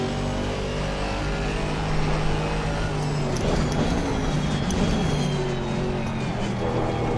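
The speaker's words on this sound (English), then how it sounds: "let me know what you guys think of the sound of the Merc" A Mercedes GT3 race car in Assetto Corsa Competizione laps the Imola circuit, its engine a loud, steady drone with rising and falling revs throughout.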